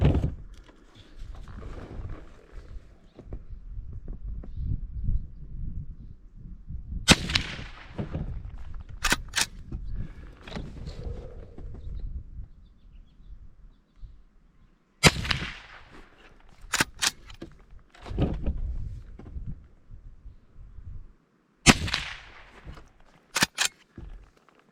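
Henry rifle fired at an outdoor range: three loud, sharp reports spaced several seconds apart, each with a crisp crack and decaying echo, amid low rumble and background handling noise between shots.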